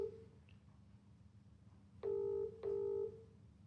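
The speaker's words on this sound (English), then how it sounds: "It will ring a few times and then it will answer." A phone call ringing through to a PRO-W12DX listening device, heard as two short electronic ring bursts in quick succession over faint background hiss, fairly quiet and without talk.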